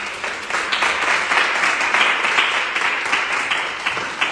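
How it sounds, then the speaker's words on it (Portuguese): A church congregation claps hands together in praise, a dense, lively burst of steady applause filling the room at close range with no talk over it. "Aplauda o Senhor."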